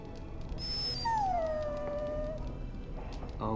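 A dog in the Dragon Age: Origins video game whimpers with one long, falling, high-pitched whine over steady game background noise, with a few faint yips around it.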